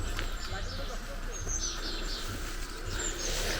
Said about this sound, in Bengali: চুপ করে থাকলে অনেক পাখির আওয়াজ শুনতে পাবেন।